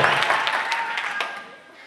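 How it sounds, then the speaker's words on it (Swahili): A Maasai congregation in a church in Kiteto, Manyara, claps together in a lively burst that fades out toward the end, with voices mixed into the applause. "Mtu mmoja mpe Yesu makofi mazuri sana asubuhi ya leo."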